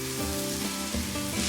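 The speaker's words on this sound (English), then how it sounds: "When the onions are browned and softened, add the tomato puree to the skillet." Tomato puree hitting a hot skillet of browned, softened onions, a steady close sizzle with a few soft stirring scrapes, no voices, for a Yucatan-style slow cooker pork and black bean dish.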